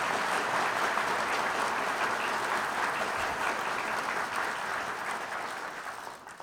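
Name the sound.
applause at ceremony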